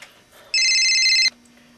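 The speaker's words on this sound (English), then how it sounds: "Oh, it's just the phone." A telephone rings once with a bright, buzzing electronic trill that starts suddenly, holds steady for under a second, then cuts off, loud and close in an otherwise quiet room.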